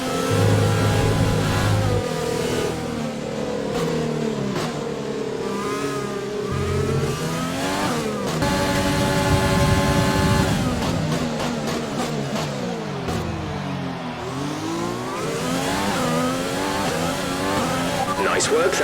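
An F1 race car in the F1 2020 video game accelerates out of the pits, its engine revving loud and close through rising and falling gear sweeps, with a voice talking over parts of it.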